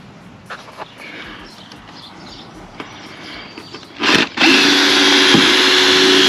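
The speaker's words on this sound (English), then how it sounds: "try to screw another hole in there" Power drill driving a screw into an RV camper door: a few faint knocks and handling sounds, then a loud close motor whir that starts briefly and then runs steadily.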